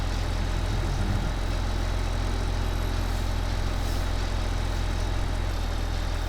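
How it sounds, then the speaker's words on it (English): A large mower engine idles steadily in Farming Simulator 2015, a constant low rumble with a faint whine, running alone without breaks. "Wow, that is a large mower."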